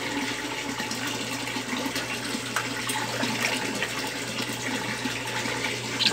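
A Brastemp Ative BWL11 washing machine filling with water: a steady, loud rush of running water, continuous throughout and heard alone.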